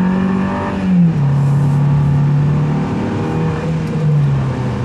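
A 170-horsepower car engine paired with a 6-speed automatic pulls hard under acceleration at highway speed, a steady loud drone with a rising tone that dips and climbs through gear changes.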